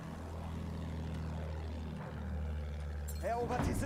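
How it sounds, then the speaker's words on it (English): A propeller plane drones steadily in the World War I shooter Battlefield 1, a low, sustained engine hum that holds close and level before a person's voice breaks in near the end. "Nice plane."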